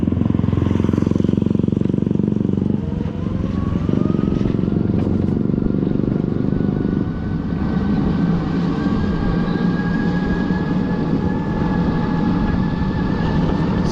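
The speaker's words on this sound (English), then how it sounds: "Let's motorbike go." A motorbike rides through traffic, with its engine droning steadily and rising in pitch as it accelerates through the gears, loud and close throughout.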